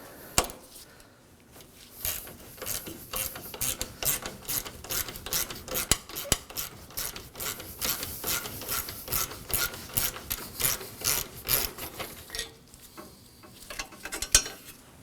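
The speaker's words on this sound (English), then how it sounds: "We're gonna remove this bolt." Rapid clicking of a 10mm socket ratchet backing out a bolt holding the AC condenser on a 2014-2020 Acura MDX, loud and close, in repeated bursts with brief pauses, no talking.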